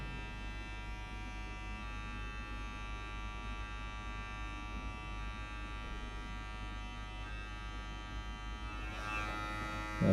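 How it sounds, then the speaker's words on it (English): Electric hair clipper buzzing steadily up close while cutting a girl's skin fade, a constant droning hum that continues unbroken throughout. "the clipper doesn't take the hair on top"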